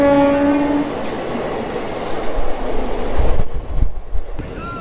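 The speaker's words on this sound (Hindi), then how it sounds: "तो फाइनली हम लोग की ट्रेन आ चुकी है" A train pulls into a railway station at night, opening with a loud, steady horn blast, then the heavy rumble and clatter of wagons rolling past close by, with wheel squeal near the end.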